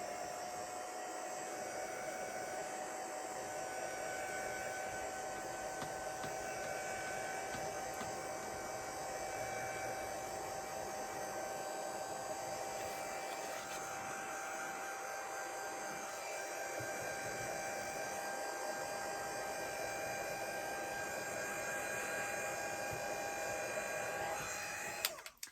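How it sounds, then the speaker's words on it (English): A handheld heat tool blows steadily for the whole stretch, drying stamped ink on a card: a loud, continuous whirring blast with a hum, close up and alone without talk. "I'm just going to come in with my heat tool just to help dry that off a little bit"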